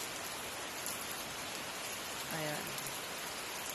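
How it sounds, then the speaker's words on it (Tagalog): Steady, dense rain hissing continuously on surfaces in Italy, with a brief spoken word partway through. "Umuulan na naman dito sa Italy."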